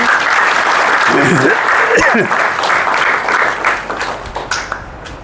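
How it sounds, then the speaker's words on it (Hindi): Audience applause fills the room as a dense burst of clapping that gradually thins and fades toward the end, with a voice briefly speaking over it. "तो इनके लिए ताली जरूर बजाओ"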